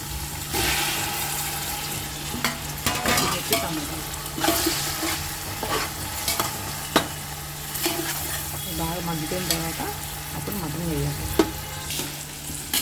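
Masala and tomatoes fry for mutton biryani with a dense, continuous sizzle, punctuated by sharp stirring scrapes and clatters against the pot, with a faint voice now and then.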